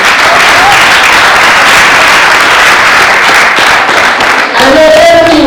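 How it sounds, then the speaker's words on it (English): Loud, sustained audience applause at a graduation speech, dense clapping filling the room throughout with faint voices underneath. "I want you to give him a big round of applause."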